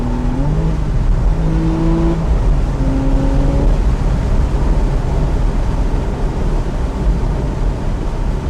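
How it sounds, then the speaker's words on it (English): A 2014 Porsche Carrera S accelerates hard nearby, its engine note rising through the revs in steady pulls and holding a loud, continuous roar throughout. "Boy, that car's fast."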